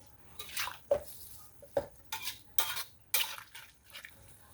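Prawn mee goreng noodles are turned over in a pan, giving several separate clinks and scrapes of a utensil against metal with soft sizzling between them, close and fairly quiet.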